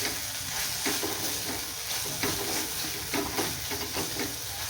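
Chili powder and masala stirred into hot oil in a pan for a dry mung bean dish, a steady close sizzle broken by repeated scraping strokes of the spoon, with no voices.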